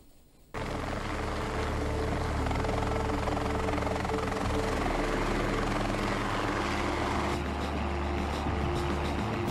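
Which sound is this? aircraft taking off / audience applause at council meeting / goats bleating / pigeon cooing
aircraft taking off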